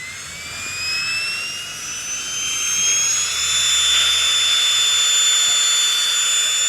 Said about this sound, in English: let's time it now and see how long it takes to pump up the Big Agnes